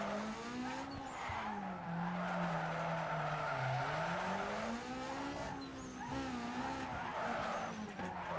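Tires squealing steadily as a car drifts in Need For Speed Underground 2, with a continuous engine whine rising and falling underneath through a long slide.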